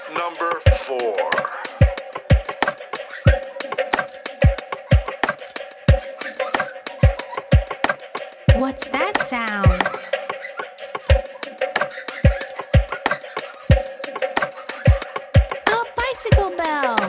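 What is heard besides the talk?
bicycle bell ringing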